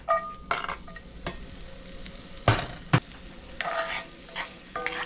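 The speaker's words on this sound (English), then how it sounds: "And this is just gonna saute this in here for a couple minutes." Garlic sautéing in olive oil in a pan for low-carb cauliflower rice, a soft steady sizzle under occasional sharp clinks and scrapes of a utensil stirring, close and without talk.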